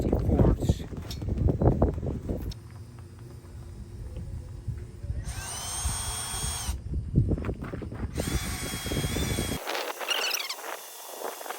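A power drill bores a hole in an aluminum sailboat mast, with bursts of high whining drilling starting and stopping between stretches of rumbling wind noise and handling sounds.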